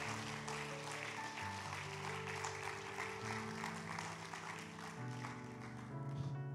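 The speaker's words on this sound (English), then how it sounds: "let's give these people who raised their hand a round of applause" Church congregation applause, a soft, steady wash of clapping running underneath sustained music throughout.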